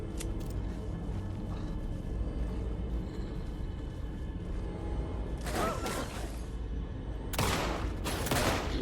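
Gunfire from the Alan Wake II video game as enemies are shot, a few sharp loud bursts standing out over a steady rumbling background, with the rest of the stretch quieter.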